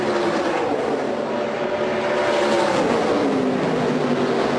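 NASCAR K&N Pro Series East stock cars, including a Toyota, racing at Dover International Speedway, a dense continuous engine roar from a pack of cars that rises and falls slightly as they pass.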